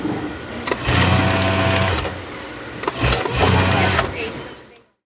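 A pedal-operated industrial sewing machine runs in a long whirring stretch, pauses briefly, then whirs again before stopping, with someone speaking over it.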